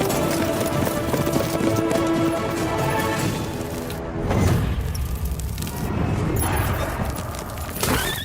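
A horse's hooves clip-clop steadily through a dramatic film scene, a continuous trotting rhythm over a dense background, with a heavy thud partway through.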